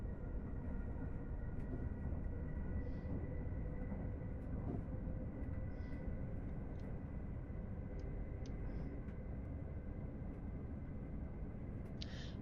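A steady, even rumble of a train running on the West Coast Main Line between Rugby and Milton Keynes in Train Sim World 6 fills the whole stretch, with faint clicks and tones over it.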